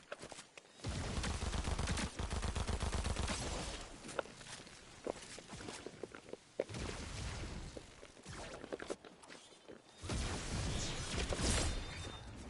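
Gunfire in the video game Fortnite: loud, dense bursts of rapid shots in several clusters separated by brief quieter gaps, with a few sharp impacts, and no talking.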